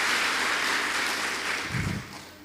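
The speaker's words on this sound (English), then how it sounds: "Let's give our Commandant another applause for" Applause rises from the audience at a chaplaincy workshop closing ceremony for the Commandant. It is a steady wash of clapping that thins and fades toward the end.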